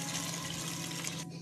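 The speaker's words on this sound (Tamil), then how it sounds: "2 டம்ளர் தண்ணி ஆட் பண்ணிக்கோங்க." Two tumblers of water poured into a pan of vada curry, a steady close gush that cuts off abruptly near the end, with no talking.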